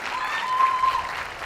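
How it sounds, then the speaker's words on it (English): An audience at a school livestock show cattle ring gives a steady round of applause, dense and close for the whole short stretch, with faint voices underneath. "let's give them another big round of applause"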